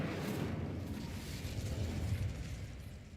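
Incendio fire spell cast in the Hogwarts Legacy video game, a loud, sustained blast of roaring, rumbling fire that stays dense and steady for several seconds without any voice.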